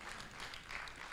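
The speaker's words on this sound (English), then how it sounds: "Yes, let's continue clapping" An audience claps steadily in a hall at the launch of the Uganda Aquaculture Census 2025 report, a dense, even patter of many hands that holds at moderate loudness with no pauses.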